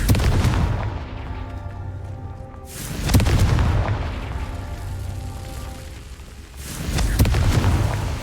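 The Confringo fire spell in Hogwarts Legacy goes off as heavy booming blasts, about three loud explosions spaced a few seconds apart over a rumbling game soundscape.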